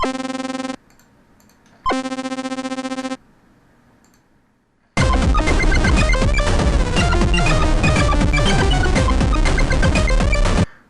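A bright PICO-8 chiptune synth tone pulses with a fast tremolo in two short bursts, then a dense, busy electronic passage plays loudly to the end.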